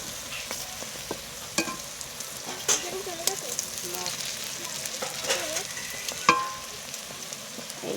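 Lentil vada fritters of ground dal fry in hot oil with a steady close sizzle, while sharp clicks and scrapes mark the fritters being turned one by one.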